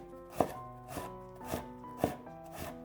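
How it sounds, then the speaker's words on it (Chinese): A knife dices peeled radish into small bits on a board, with five evenly spaced chops about half a second apart, each a close, crisp thud. "再改刀切成细丝，最后切成小碎丁"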